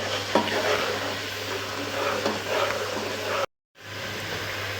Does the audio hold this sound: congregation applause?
no